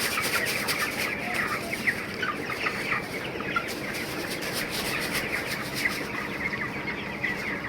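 A crowd of poultry-farm chickens, recently given a Ranikhet (Newcastle disease) vaccine, cluck and chatter continuously in a dense, overlapping flock sound at moderate distance.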